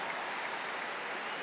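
Large crowd in the Berlin Olympic Stadium cheering on a German high jumper on home soil, a broad, steady wash of applause and cheering heard from a distance without letup.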